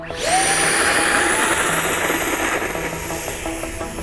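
A small electric motor on a model airplane (XFLY C-17 Globemaster) spins up with a rising high-pitched whine, then holds a steady buzzing hum close by.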